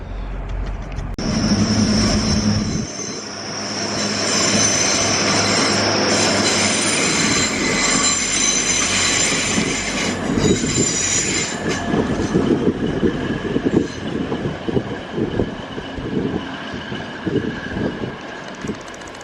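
A Grand Central passenger train passes close by, wheels squealing sharply at first before settling into a loud, steady rumble of rolling stock that gradually fades.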